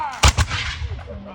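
Flintlock muskets fire in a volley, two loud close booming shots in quick succession, each rolling into a fading echo and crackle.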